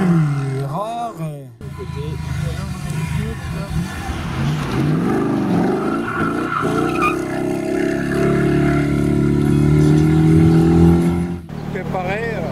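A powerful sports car engine revs and roars up and down at the Treffort historic hill climb, growing louder toward the end, with voices talking over it.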